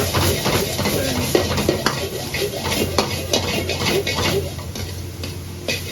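Nepali dry goat meat (sukuti) mixed in a pan with garam masala, salt and paprika, a steady sizzle with repeated scraping and clinking of a utensil against the pan, close by.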